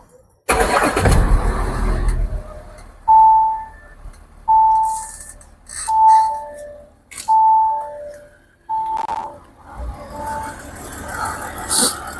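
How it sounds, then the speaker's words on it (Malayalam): An Audi Q7 cranks with a sharp burst, then settles into a running engine, with several rhythmic rising revs and drops at close range. "അപ്പോൾ ഇനി ഞാനിത് സ്റ്റാർട്ട് ചെയ്തിട്ട് ഇതിൻ്റെ സൗണ്ട് ഒന്ന് നിങ്ങളെ കേൾപ്പിക്കാം."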